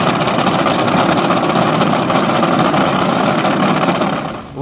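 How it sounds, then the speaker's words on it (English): A drag racing engine built by Ross Racing Engines of Niles, Ohio, runs with a loud, dense, constant roar and rattling mechanical texture, sustained throughout before easing slightly at the end. "Ross Racing Engines of Niles, Ohio, built this bad power plant for Tyler Hilton and Team Great Expectations"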